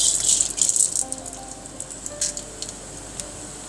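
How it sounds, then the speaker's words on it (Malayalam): Mustard seeds drop into hot coconut oil in a pan, a quick clatter of grains up close followed by scattered faint crackles and pops that thin out. "നമുക്കിതിലേക്ക് കടുക് ഇട്ട് കൊടുക്കാം"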